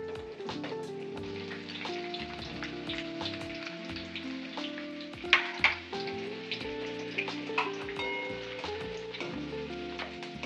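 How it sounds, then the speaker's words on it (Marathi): Thin slices of garlic frying in hot oil for Diwali chivda, a steady close crackling sizzle with occasional sharper pops and faint stirring scrapes, no talking. "लसूण चांगला तळू द्यायचा,"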